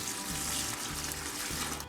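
Homemade gin poured into a plastic bucket for dilution, a brief steady splashing trickle of liquid heard up close.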